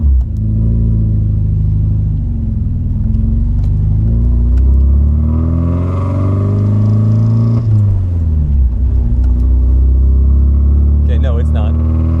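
Car with a modified ECU driving during a launch control test, a loud close engine rumble from inside the cabin that rises and falls with the throttle, with a voice talking over it.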